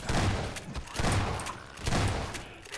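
Bursts of gunfire crackle in a gunship fight in Half-Life 2: Episode One, three loud volleys roughly a second apart with rumbling booms between them.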